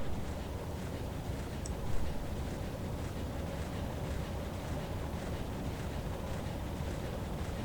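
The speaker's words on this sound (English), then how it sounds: "There you have the engines running smooth." Smooth, steady engine drone of a WWII U-boat running below decks in Silent Hunter 3, a constant low rumble and hiss holding level throughout with no talk.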